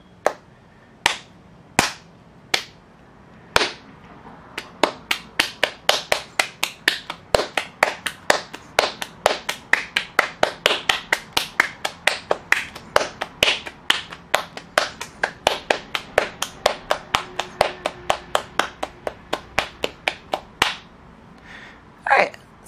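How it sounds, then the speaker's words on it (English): Hands pat and clap a ball of masa dough into a tortilla, a long run of sharp, close slaps, sparse at first then quick and steady, with brief pauses between bursts. "Then you can start patting it into a tortilla. So just kind of clapping between your hands and rotating it."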